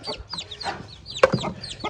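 A couple of chickens on a farm cluck in short, repeated calls close by, with a sharper squawk near the middle of the brief stretch.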